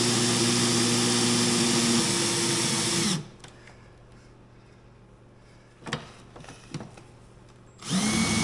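A hand-held power drill whines steadily into metal for a few seconds, stops, then a couple of brief clanks follow before the drill starts up again.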